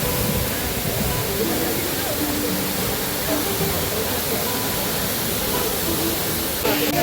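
A waterfall pours near a small roadside eatery on a Haridwar-to-Barkot mountain road, making a dense, steady roar of rushing water that fills the whole stretch without pause.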